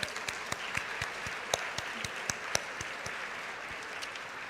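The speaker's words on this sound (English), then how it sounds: "Big round of applause." A convocation audience applauds steadily throughout, a dense wash of clapping with a few sharper individual claps standing out.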